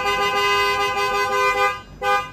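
Horn of an automatic diesel SUV blaring in one loud, steady honk close by, cut briefly near the end and then sounded again.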